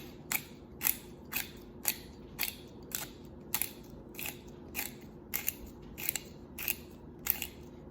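A manual pepper grinder cracks peppercorns while roasted chicken with vegetables is being prepared, giving a steady run of about a dozen crisp, close grinding crunches at an even rhythm, with no talking.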